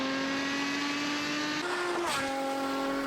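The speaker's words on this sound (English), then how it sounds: "that's a Camry V6 in that car and the way that sounded" Toyota Camry V6 engine, a steady droning hum with a shift in pitch partway through as the revs change, heard fairly faint at a distance.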